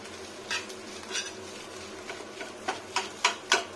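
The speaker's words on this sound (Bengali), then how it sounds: "মাছের ডিম খুব সুন্দর করে ভাজতে হবে।" Fish roe being stirred in a frying pan, with a low steady sizzle underneath and a series of scraping stir strokes that grow more frequent and louder toward the end.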